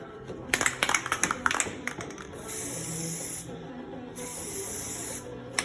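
Aerosol cans of Plasti Dip spray a second coat onto Toyota 4Runner emblems: a cluster of short hissing bursts and rattles, then two long steady sprays close by.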